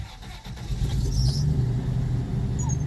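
A car engine hums low and steady, rising slightly as it revs toward about 6,200 RPM, close by with a faint high whine above.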